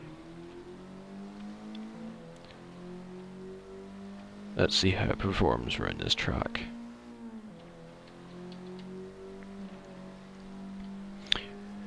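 Video game car engine hums steadily while driving around a race track in Forza, rising into a burst of loud revving and tire noise midway before settling back to a steady drone, with someone talking over it throughout.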